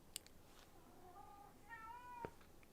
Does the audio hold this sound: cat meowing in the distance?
yes